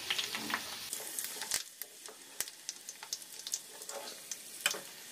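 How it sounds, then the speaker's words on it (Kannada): Drumstick leaves and betel leaves fry in homemade ghee, a soft, close sizzle broken by crisp ticking pops and crackles scattered across the whole stretch. "ನುಗ್ಗೆ ಸೊಪ್ಪು ಮತ್ತು ವಿಳ್ಯದೆಲೆ ಏನು ಹಾಕಿದ್ರು ಅದು ಚೆನ್ನಾಗಿ ಫ್ರೈ ಆಗಬೇಕು"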